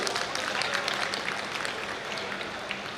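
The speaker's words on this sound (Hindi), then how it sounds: "आपकी तालियां जोरदार होनी चाहिए।" Applause from an audience at a formal welcome ceremony honouring a legislator, steady dense clapping filling the whole stretch at moderate loudness, with some crowd murmur mixed in.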